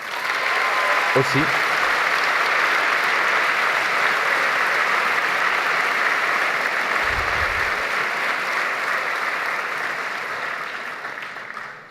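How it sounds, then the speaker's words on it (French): An audience at a medical graduation ceremony applauds with sustained, dense clapping. The applause stays loud and steady for the whole stretch and only starts to fade at the very end. A brief spoken word is heard near the start. "Je pense qu'on peut les applaudir"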